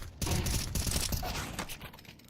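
Counter-Strike match on the Inferno map, with a burst of rapid gunfire and clattering shots close up, dense at first and then thinning out.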